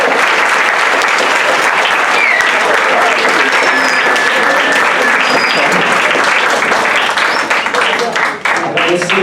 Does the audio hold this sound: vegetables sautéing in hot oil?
no